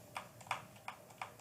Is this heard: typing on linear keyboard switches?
yes